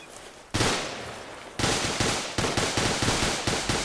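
Gunfire in the video game ArmA 2, with loud, close bursts of automatic rifle and machine-gun fire, one long burst followed by quick repeated rapid shots in steady rhythm.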